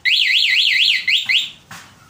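Aftermarket alarm on a Honda XRM 125Fi motorcycle, a loud, close electronic siren warbling quickly up and down, briefly pausing and restarting, then switching to a shorter different tone.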